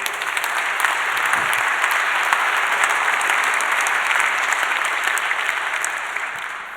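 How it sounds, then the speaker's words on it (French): Dense, sustained applause from a large conference audience during a French opening speech on 5 October 2021, steady and full from start to finish with no voices over it. "Et je vous remercie d'applaudir très fort Raymond Soubi"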